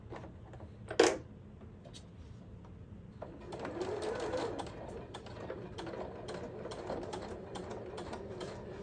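A sewing machine stitches a zipper pocket on a tote bag with black thread, a close mechanical whirring in short runs after a sharp knock, with brief pauses between bursts of stitching.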